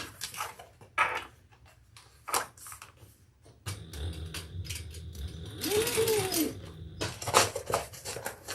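Home sewing machine working on a tote bag gives scattered clicks and handling knocks, then a short stretch of stitching with a rising whir, close and intermittent.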